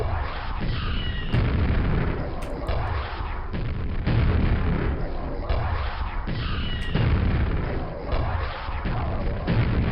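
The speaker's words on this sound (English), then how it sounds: "Trying to use grenades where I can so that I'm not wasting ammo" Grenade blasts in the retro shooter Brutalist Jam 2, a run of loud, dense booms and thuds repeating across the whole stretch, close and continuous with gunfire-like bursts layered in.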